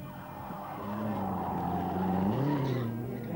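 A Renault 11 Turbo rally car at the 1989 Rali Vinho da Madeira, its tires skidding and squealing over a strained engine drone, close and loud for a few seconds, with no talk.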